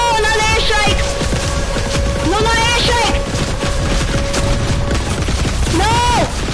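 Rapid gunfire bursts and explosion booms from an airstrike in the Fortnite video game, loud and continuous, mixed with game sound effects while players shout and talk over the action.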